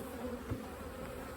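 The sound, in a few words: honey bees buzzing at the hive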